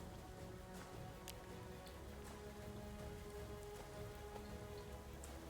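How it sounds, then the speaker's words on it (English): Sulfuric rain falls in the game Starbound with the Frackin' Universe mod, a faint, steady patter of drops hissing on surfaces throughout, with no voices. "At some point, it was raining sulfuric."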